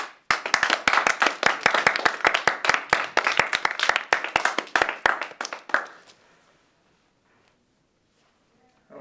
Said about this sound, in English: I like to clap.